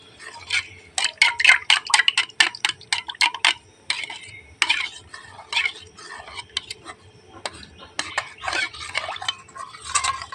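Egg, sugar and ghee being beaten together in a bowl for white sesame bread dough, heard as a close run of quick, rhythmic clicking strokes, with bursts that rise and pause across the stretch and no voices.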